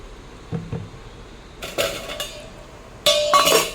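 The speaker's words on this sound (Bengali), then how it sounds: "এখন একটু হালকা করে নাড়িয়ে দিতে হবে।" A metal spoon clinks and scrapes against a pot while stirring lentil dal with taro greens, in short bursts of clatter separated by quiet pauses.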